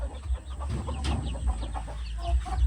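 A Rhode Island Red rooster and hens on a farm give repeated close clucks and short calls over a steady low hum, with no talk.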